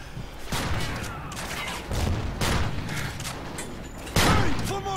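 Gunfire in Call of Duty: Ghosts comes in loud bursts and bangs, with rattling volleys and metallic mechanical clanks in a busy combat scene.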